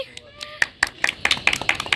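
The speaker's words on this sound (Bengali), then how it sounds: "দিদির জন্য একটা জোরে হাততালি" A small group at an outdoor picnic claps for someone, a quick burst of hand claps that starts sparse and builds into a dense, close patter over about two seconds.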